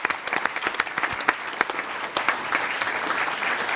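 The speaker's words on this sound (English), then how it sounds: "Miss Kentz, let's give her a round of applause." A crowd at a city council meeting claps steadily, a dense patter of many hands applauding together at a lively, even pace.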